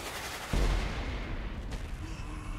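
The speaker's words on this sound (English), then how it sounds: "I'm being shot at." Gunfire in the Saints Row: Gat out of Hell video game: a sharp, loud shot bursts out at about half a second, then a dense rumbling volley of shots and booms continues behind it.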